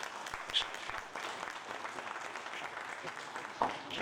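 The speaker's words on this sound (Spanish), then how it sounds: "Demos un aplauso a Cedric." A seminar audience in Chile claps for bodybuilder Cedric McMillan, a steady, moderate-level wash of applause lasting a few seconds, fairly distant and even, with a couple of sharper claps standing out.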